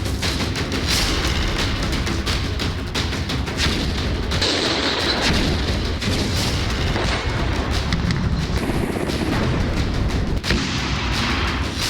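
Bombs and shells burst during the war in Ukraine, with loud, dense booming and crackling that carries on without a break through the whole stretch and has no voices over it.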